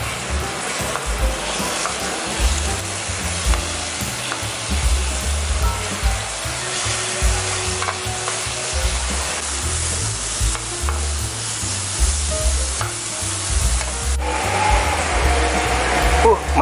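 Beef bulgogi sizzles steadily in a hot pan as it is stirred, with scraping turns over the constant frying hiss, cooked as a topping at a porridge stall; faint voices murmur in the background.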